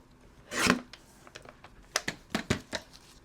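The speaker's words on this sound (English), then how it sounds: "So I am just going to trim off just a little bit" Paper trimmed for a scrapbook photo mat: a longer rasping cut followed by several short, crisp slicing and tapping strokes, close and fairly quiet, with no talking.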